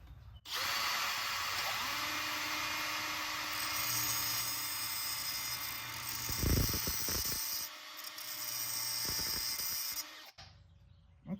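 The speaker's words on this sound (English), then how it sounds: "If I spin the drill and then take a cutoff saw at the same time, I wonder if I can turn this down." An electric drill spins a carriage bolt while a cutoff saw grinds against it, producing a steady high whine that runs for about ten seconds, with rough grinding bursts midway before it winds down and stops.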